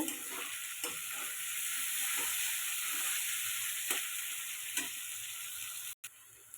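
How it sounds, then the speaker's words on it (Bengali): Cashews and raisins fry in a pan of oil, giving a steady low sizzle throughout. Occasional soft stirring clicks sound from a spoon, and the frying carries on alone without talk. "দিয়ে দেবো কাজু বাদাম আর কিশমিশগুলো সব ফলগুলো ভেজে নেব"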